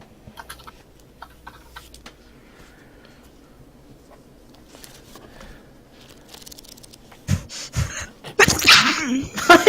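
A single loud, sharp sneeze bursts out near the end of a quiet stretch at a tabletop role-playing game session, following faint room noise and small clicks.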